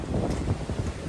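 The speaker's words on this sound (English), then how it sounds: "Check out the wind." Strong gusts from Storm Bert buffet a microphone outdoors at a parkrun in Preston, a loud rumbling roar of wind noise surging and dipping throughout.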